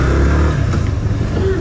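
A Yamaha FZ V3 motorcycle pulls away, its engine note rising briefly and loud up close, accompanied by wind rush during the short burst.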